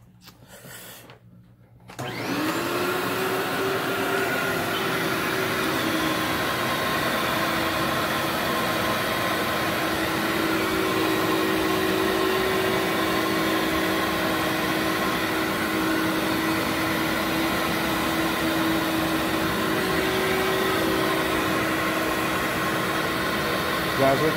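A Workhorse vacuum extracting dry soil starts after a brief pause, then runs with a loud, steady whine and roar that holds unchanging to the end.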